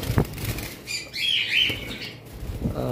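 Small red pet birds in a cage flap their wings in a quick burst, with a few soft chirps and faint knocks around it.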